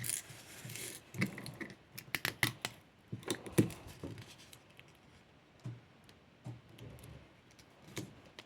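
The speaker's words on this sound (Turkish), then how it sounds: "Şimdi bunu da bantlayacağım." Adhesive tape being pulled and pressed onto a folded paper prototype for a paper animatronic, with irregular close rasping strips, crinkles and handling noises coming in uneven bursts, no voices.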